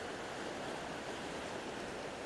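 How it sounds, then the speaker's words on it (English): The swift-flowing Chilliwack River rushes past nearby in a steady, unbroken broadband roar of moving water, with no voices. "The river moves pretty fast here, if you can tell."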